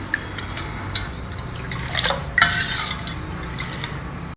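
A spoon stirs dry ginger powder into a panakam drink, with repeated light scraping, clinks against the vessel and liquid swishing, close and fairly loud.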